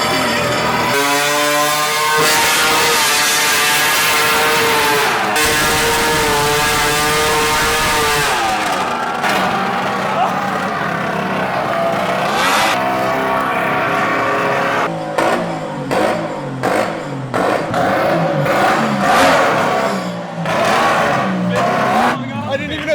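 Modified golf cart engine run at full throttle, a loud, close, high-pitched engine scream that holds steady, then drops and surges in bursts, with people talking over it.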